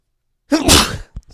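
A single loud, close sneeze bursts out of silence during an online tabletop role-playing session, followed by a faint breathy trailing sound.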